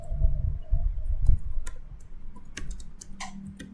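Keys click on a computer keyboard as a command is typed, a quick irregular run of soft taps over low rumbling background noise.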